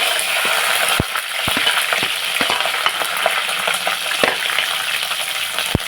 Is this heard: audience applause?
no